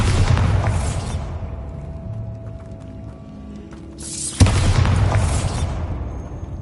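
Bombarda blasting spell in a Harry Potter video game: two loud booming explosive bursts, the first at the start, the second hitting sharply after about four seconds and rumbling on to the end.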